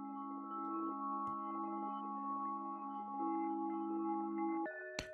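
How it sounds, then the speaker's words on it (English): A soloed synth bell from an FL Studio beat holds steady, sustained tonal notes that shift pitch a few times, then ends with a short bright transient and a new chord. "It's a bell sound that originally sounds like this."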